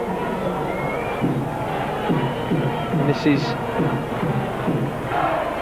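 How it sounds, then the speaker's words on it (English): A large rugby league crowd at a Leeds versus St Helens match sings together in a rhythmic, rising and falling chant, steady and fairly loud, with a commentator speaking briefly over it. "as the crowds sing about Murrayfield"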